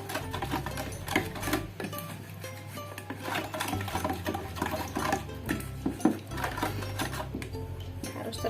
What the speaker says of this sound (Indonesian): lalu aduk hingga tercampur semua.